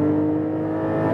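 A Porsche 718 with a naturally aspirated six-cylinder engine accelerates in a steady, even-toned drone with a smooth, continuous hum and no voices.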